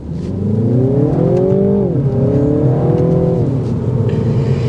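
A 2024 Mini Cooper S Hardtop accelerates on a test drive, heard close from inside as the engine note rises steadily, drops at a gear change and climbs again under constant road noise.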